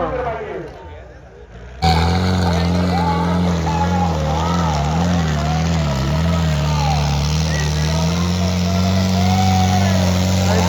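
After a brief quieter start, a heavy modified tractor engine roars to life and revs with rising and falling pitch at a tractor competition, while a crowd murmurs and voices talk over it.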